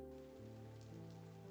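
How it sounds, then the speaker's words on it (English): Rain falling in the video game Punishing: Gray Raven, a steady soft hiss of drops layered over sustained tonal game music, with no talking. "Oh, it's raining."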